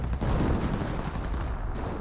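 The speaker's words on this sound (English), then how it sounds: "That sounds like a 25-pounder." In the Company of Heroes video game, 25-pounder artillery pounds away amid a continuous battlefield din, a thick, unbroken roar of blasts and gunfire that stays loud throughout.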